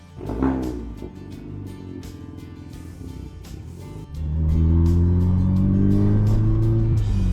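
A Chevrolet Cobalt with the LNF engine and a straight pipe exhaust revs loud and close, a rising rough drone that settles into a steady heavy roar after a brief lift.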